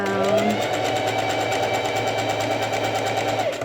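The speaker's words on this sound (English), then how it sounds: "I'm just going to do a little back tack stitch, and then go down." Sewing machine running a short back tack stitch on a fabric face mask, a steady close mechanical whir with rapid needle chatter held for several seconds.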